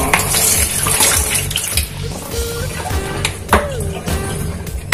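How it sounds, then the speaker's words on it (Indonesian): Spices being rinsed under a running kitchen tap while preparing Padang-style gulai cincang, with a steady close wash of flowing water, splashing and occasional clinks throughout. "Cuci bumbu yang akan kita gunakan di atas air mengalir ya guys, biar semua kotorannya hilang."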